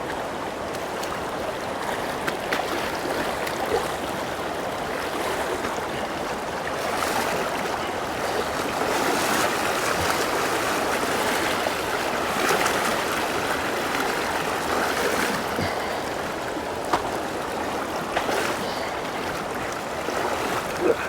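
A river swollen after rain rushes steadily during a hiking crossing near Brown Mountain Dam, a close, unbroken wash of flowing water with no voices.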